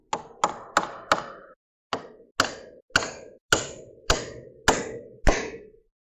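Hammer blows drive wood blocking into a stud wall: about a dozen sharp, loud, close strikes, some quick rapid taps then steady evenly spaced whacks, each with a short ringing decay, no voices.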